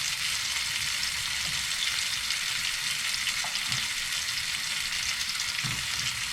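Tomato and mushroom frying in butter in a pan aboard a narrowboat, a dense continuous sizzle and crackle heard close up, with occasional faint low bumps.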